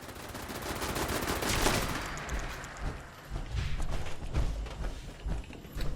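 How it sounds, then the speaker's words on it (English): An automated turret in Fallout 76 fires in rapid bursts, a dense rattling stream of shots that thins into separated cracks and thumps, with no voices over it. "there's another one over this way because it's shooting this direction"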